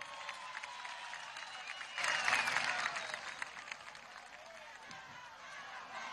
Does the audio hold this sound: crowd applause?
yes